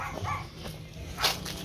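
Dogs bark out in wild brush in the Dominican Republic, with a few short, moderately close barks and yips spread across a brief stretch.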